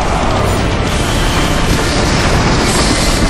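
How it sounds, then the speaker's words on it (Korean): A train runs at speed on the Snowpiercer film set, its steady clickety-clack of wheels and carriage rumble filling the space with a loud, continuous roar. "달리는 기차 안에서"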